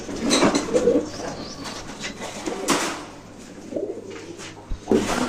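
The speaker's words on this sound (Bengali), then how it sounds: "এই সাদা কবুতরটা ডাকাডাকি শুরু করে দিছে" A white pigeon coos in soft, throaty bursts, repeating several times at close range inside a loft, with brief rustling between calls.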